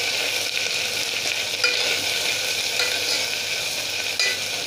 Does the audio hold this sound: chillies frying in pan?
yes